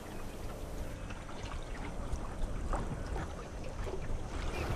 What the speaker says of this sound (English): All you can hear is the wind and the water going past the boat and the sound of the birds.